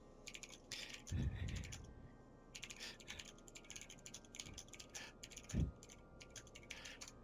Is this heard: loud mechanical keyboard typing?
yes